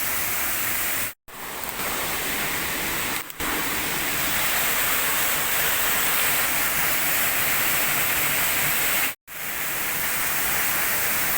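Waterfall beside a stone-lined channel roars as steady, dense broadband rushing water, loud and close, continuous throughout with a few brief dropouts.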